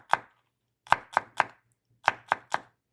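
A knife chops jalapeño peppers skin side up on a cutting board, sounding as seven crisp, close thuds: one alone, then a quick group of three, a pause, and another group of three.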